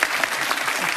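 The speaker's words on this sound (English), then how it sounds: "Give me a round of applause." Studio audience on a television quiz show breaking into a sustained round of applause, dense steady clapping filling the whole moment at close range with no voices over it.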